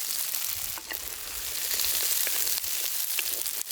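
Shallots, curry leaves and tomatoes sauté in a pan with a dense, continuous sizzle and a few faint stirring ticks, close up, with no talking.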